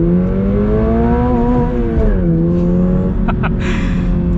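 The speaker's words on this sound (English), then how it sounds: "Hit the red line a little bit by accident." A 2022 Toyota 86 sports car engine revving hard toward redline, a loud harmonic drone climbing and dipping in pitch as it pulls through the rev range, with a brief clattering near the end.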